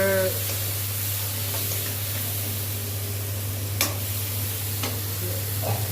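Potatoes with turmeric sauté in a pan, giving a close, steady sizzle and hiss over a low hum, with a few faint stirring ticks.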